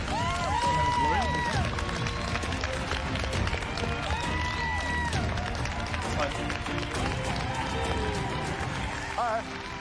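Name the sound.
audience cheering and applauding contestants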